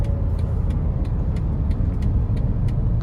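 A car speeding at around 200 km/h through traffic in Pakistan, a loud steady roar of engine and road noise with faint rhythmic thumps from the tyres, heard from inside the cabin with no talk.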